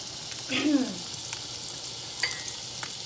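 Butter frying in a hot pan while cooking citrus mahi-mahi, a soft steady sizzle close by with a brief clatter of stirring and light pan knocks, no talking.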